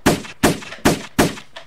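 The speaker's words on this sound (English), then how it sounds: "Today, we're going to make a video about how to do rapid gun firing." Rapid gunfire sound effect built in Adobe Premiere Pro: four sharp, loud shots evenly spaced with a fifth fainter one, close and dry, no voices.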